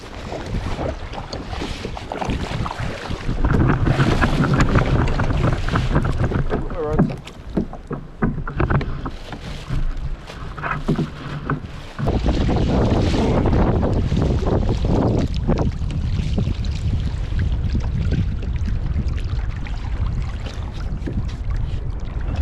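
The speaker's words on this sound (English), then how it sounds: "let's see which way the wind settles us while we're waiting for the wind" Gusty wind roars across the microphone of a kayak out on open water, a constant, close rumble with louder surges and water slapping underneath, continuing for the whole stretch.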